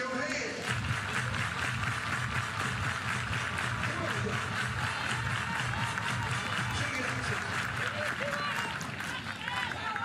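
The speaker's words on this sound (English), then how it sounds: "Everybody clap your hands." Crowd at a college softball game between Oklahoma and Missouri clapping hands in the stadium, a continuous rhythmic wash of applause and crowd noise throughout, with an announcer talking over it.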